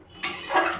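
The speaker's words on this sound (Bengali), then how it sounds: "পনির দিয়ে এবার একটু ভালোভাবে নাড়িয়ে নেব" Paneer pieces stirred through a pot of boiling curry gravy: after a moment of quiet, a sudden, brief broadband scrape and slosh of a spoon in the pot continues to the end.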